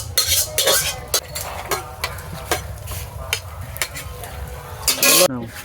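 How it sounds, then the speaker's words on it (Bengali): A bottle gourd greens and potato curry is scraped out of a pan into a bowl, with repeated metallic scrapes and clinks of a spoon and a soft sizzle underneath, ending in a final louder clatter. "আমার লাউ শাক আলুর তরকারিটাও রেডি হয়ে গেছে এটাকেও আমি ঢেলে নিচ্ছি গামলাতে"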